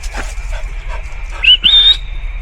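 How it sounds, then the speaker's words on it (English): Two sharp, high whistles from a person call a dog on a walk, the second longer and rising, following faint snuffling and movement sounds close by. "Louis knows a proper whistle"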